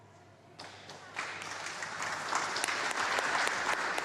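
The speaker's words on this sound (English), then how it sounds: "All over the country, applause prompts are working the crowds." Applause from a crowd at a staged UK election campaign rally for the Labour leader in Kent. The clapping starts fairly soft and swells into loud, dense, sustained applause that keeps building.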